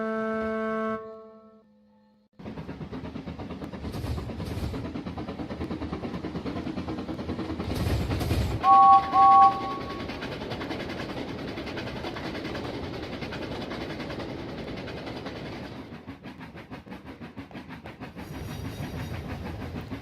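Engine James rushes past with the express, a sustained rumbling clatter of wheels lasting many seconds, broken by a short whistle midway before the noise eases off.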